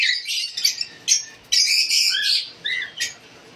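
Hens call in an aviary, a busy overlapping mix of shrill squawks and chirps close by, with no voices.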